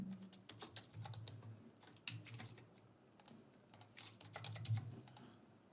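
Quick, light tapping on a computer keyboard as test credit card details are entered, a steady close run of keystrokes with brief pauses and no talking.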